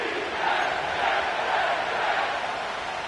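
A large football crowd roars and cheers at MetLife Stadium in an EA Sports football game, a dense, steady wash of crowd noise that stays loud and even throughout.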